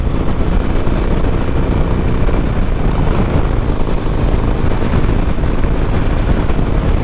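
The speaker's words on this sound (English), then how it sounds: "a steady wind of about 20-25 miles an hour, and I just got into a crosswind here" Strong crosswind of about 20-25 mph roars steadily across the rider on a new Sportster 1200 Iron motorcycle, a dense, continuous buffeting rumble with engine drone, loud and unbroken throughout.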